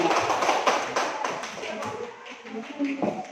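Classroom clapping for a student group presentation, a burst of scattered hand claps that thins out toward the end, with voices talking alongside.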